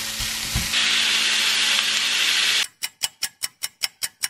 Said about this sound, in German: jetzt können wir das gute Hackfleisch in der Pfanne klatschen.